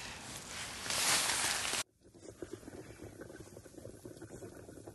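Potatoes are boiling in a pot over an outdoor fire, a loud rushing bubble that cuts off abruptly partway through, after which quieter bubbling and crackling go on nearby.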